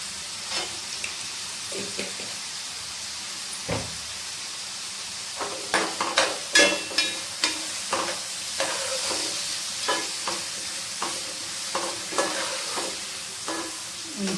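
Onion and turmeric frying in a pan for a Godavari-style fish curry, a constant soft sizzle under repeated spatula scrapes and knocks that come in uneven bursts, close and clear with no speech.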